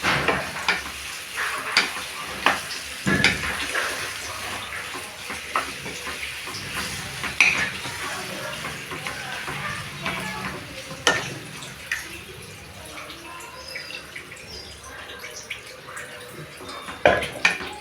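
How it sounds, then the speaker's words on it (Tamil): Steady sizzling and hissing from a hot pan as water is poured into chicken curry, with scattered scrapes and clinks of stirring throughout. "இப்போ நான் தண்ணி ஊற்றிக்கிறேன்."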